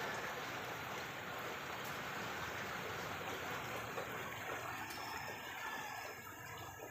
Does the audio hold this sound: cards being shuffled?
no